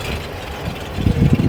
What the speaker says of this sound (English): So If you want to hear the engine, she's very quiet.